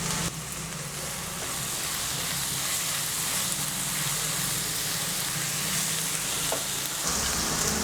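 Ginger, garlic and green chili frying in a pan for Kerala beef fry, a loud continuous sizzle with stirring, a brief break near the start and a louder burst near the end.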